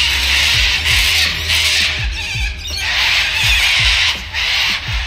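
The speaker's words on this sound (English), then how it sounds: "Those birds are loud as" Loud birds squawking outdoors among high-rise towers in Sydney, a dense, shrill chorus of overlapping calls that goes on throughout, close and steady, with no talking.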